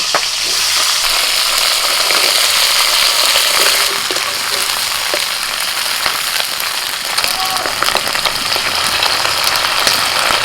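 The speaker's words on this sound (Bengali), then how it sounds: "এবার এই যে কলিগুলোকে একটু ভেজে নিচ্ছি" Bulb onions (onion flower stalks) frying in oil in a pan after fish has been fried, a loud, steady hiss and crackle with scraping stirs, running alone for the whole stretch.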